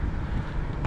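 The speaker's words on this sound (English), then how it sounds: "and the wind's picked up." Wind gusting across hidden ponds near Ashen makes a steady, loud rumble that buffets the microphone, with no voices.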